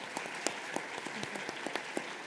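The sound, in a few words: applause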